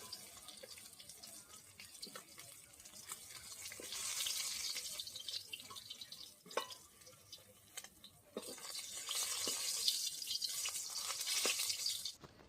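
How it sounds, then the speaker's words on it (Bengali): Water running from a tap into a pot for boiling fresh elephant foot yam, a continuous hissing splash that swells and fades over several seconds, close and moderately loud. "একটুখানি জল গেলে নিচ্ছি"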